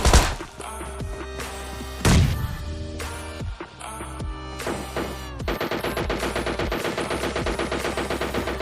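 Rapid automatic gunfire bursts from a PUBG Lite match, loud and close, with sharp repeated shots, heavy impacts and a sustained rattling volley toward the end; no talking.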